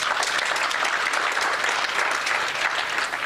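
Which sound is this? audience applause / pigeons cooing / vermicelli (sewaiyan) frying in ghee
audience applause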